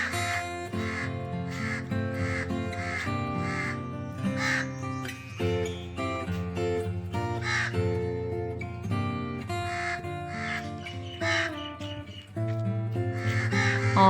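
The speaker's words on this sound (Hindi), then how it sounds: "पता नहीं कहां से एक कौवा आ गया था जो बार बार कैं कैं करके पूरा सीन ही ख़राब कर दिया।" Harsh calls of a crow repeating again and again in a rainy morning outdoor setting, loud and close, blended into a dense, busy background that stays full for the whole stretch.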